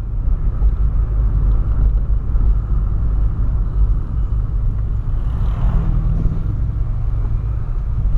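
A Volkswagen Polo fitted with a new engine runs steadily, giving a continuous low rumble that stays loud and even throughout with no talk.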